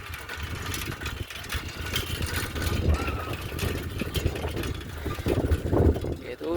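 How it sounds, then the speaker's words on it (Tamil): At night on a dark, lonely road, a motorbike's mid-pitched engine rumbles, uneven and swelling slightly as if drawing closer, mixed with a person speaking. "ஏதோ ஒரு பைக் ஒன்று வருதுன்னு நினைக்கிறேன் கைஸ்."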